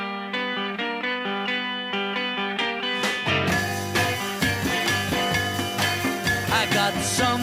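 A 12-string guitar riff from a song rings out as a bright, jangling chordal figure played alone at first before drums and full band crash in, loud and continuous.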